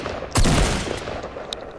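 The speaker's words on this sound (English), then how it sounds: "Get that one out and shoot him." Video game shooter gunfire, a sudden loud burst of shots followed by a rapid fading rattle and a sharp lone shot near the end.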